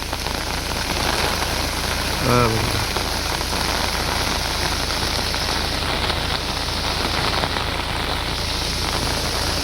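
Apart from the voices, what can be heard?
heavy rain falling at a waterfall in Poladpur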